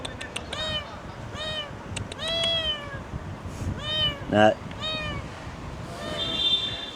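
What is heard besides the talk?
cat meowing under a board, kittens nearby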